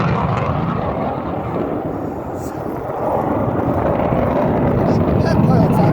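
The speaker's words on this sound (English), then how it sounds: "I'm trying to follow this plane" A propeller airplane drones steadily overhead at the London International Air Show, loud and continuous beneath wind buffeting the microphone, with the engine swelling slightly as the plane manoeuvres.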